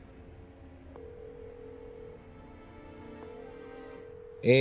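An old telephone is dialed in a detective video game: faint steady tones and a couple of clicks over a quiet hum, ending with a louder, sharper ringing burst.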